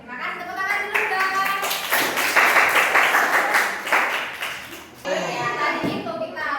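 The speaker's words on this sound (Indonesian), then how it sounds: "Terima kasih, tepuk tangan dulu dong." Students at a character and manners outreach session clap their hands together, rising into a full burst of applause that fades, then picks up again, with children's voices and talk mixed in.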